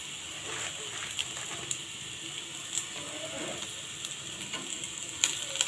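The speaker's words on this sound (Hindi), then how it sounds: "इसे भी हम अच्छे से फ्राई कर लेंगे।" Coconut powder frying in golden-brown curry masala for chicken gravy, a soft, steady sizzle with occasional faint clicks of stirring, quiet and close, with no talking.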